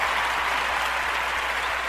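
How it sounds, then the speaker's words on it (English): Steady, dense applause from a crowd of fans at a New Year's party, loud and continuous with no gaps for the full two seconds. "So let's give a round of applause to the fans, you guys."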